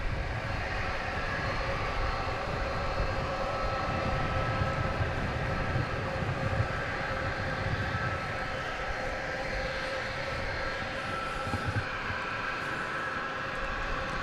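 Airbus A300 at DFW Airport at night, a steady broad jet roar with a low rumble, held at an even level throughout with no talk.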